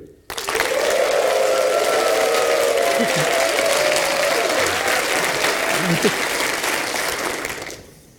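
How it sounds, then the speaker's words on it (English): A conference audience at a talk breaks into loud sustained clapping and screaming on cue, a roaring wall of applause with high whoops that swells abruptly, holds for several seconds, then fades. "I want you all to clap and scream like you've just seen the most amazing thing you've ever seen in your lives"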